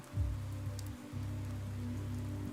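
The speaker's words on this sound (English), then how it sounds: "God, the rain effects look so good." Steady rain on surfaces in the video game Pathologic 3, a continuous hiss over a low droning game ambience, briefly dipping then resuming, with no voices.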